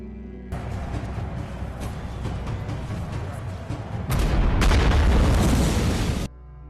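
A water channel beneath a stage blows up in a film scene, starting with a sudden roaring blast that rumbles on, then swells into a louder, heavier boom before cutting off abruptly.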